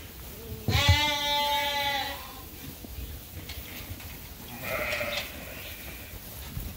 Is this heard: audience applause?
no